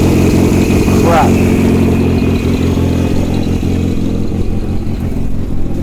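A Volkswagen Routan's engine runs loudly at a close, steady rumble, with a faint high chirp early on.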